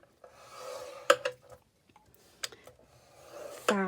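Card being scored with a scoring tool to make a simple bag, a series of short scraping and rubbing strokes with sharp clicks between them, close and distinct against quiet.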